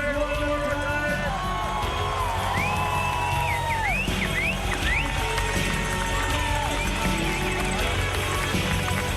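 At a Tour of California cycling stage finish, a large crowd keeps up a dense, continuous roar with scattered shouts and whoops, while a commentator talks over it.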